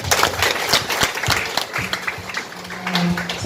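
A congregation at a church service for a child's first birthday claps in a burst of loose, lively applause that runs throughout, with a few voices mixed in under the clapping.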